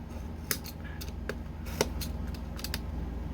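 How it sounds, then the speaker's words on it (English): Regular scissors snip at a Dollar Tree craft item, giving several sharp, close cutting clicks at uneven intervals over a quiet background. "You can cut these with regular scissors."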